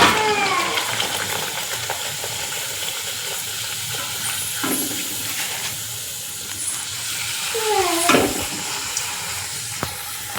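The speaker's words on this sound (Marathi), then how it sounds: "आणि आता ह्या अशाच तळायच्या." Puris made from homemade wheat semolina fry in hot oil, a moderate bubbling sizzle with occasional stirring and flipping noises, steady throughout and without talk.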